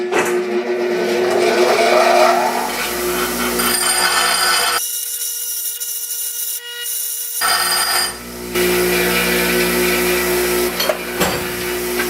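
An angle grinder works down a weld on a fork part for a Honda Africa Twin fork swap in a workshop, a loud continuous whine with shifting pitch, one brief pause midway before grinding resumes.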